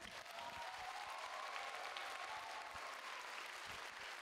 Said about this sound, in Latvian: Ar skaļām ovācijām un vēlreiz aplausiem